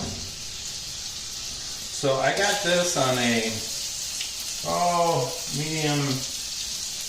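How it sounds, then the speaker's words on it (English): Steady frying sizzle of lamb chops in a hot pan, a constant bright hiss running throughout while someone talks over it. "You hear that? Sizzle. Wonderful sizzle."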